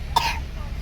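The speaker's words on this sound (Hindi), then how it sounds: "खांसी आ रही है बाबू को।" A small child gives a single short cough, close and clear, followed by quiet room background.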